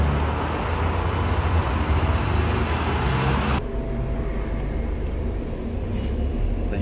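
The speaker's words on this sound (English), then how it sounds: "Taking a train to Dover on platform 1." A train bound for Dover rolls along with a steady, loud rumble and rattle, and the sound shifts abruptly partway through as the surroundings change.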